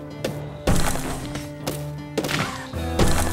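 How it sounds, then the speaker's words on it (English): Muffled underground explosions in the video game SteamWorld Dig, heard as several heavy, broadband thuds that hit abruptly, about one per second, over steady, tonal in-game music with no talking. "There's just an explosion below ground or something."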